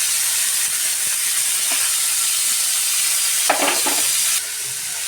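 Green beans and carrots fry in a pan for mixed vegetable fried rice, giving a constant bright hiss and sizzle with a few stirring scrapes and clinks toward the end.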